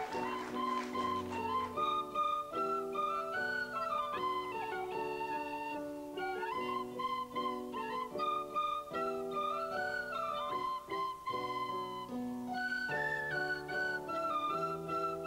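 Several tin whistles played by a primary school group play a lively melody together in bright, piping tones, with steady rhythmic notes continuing throughout.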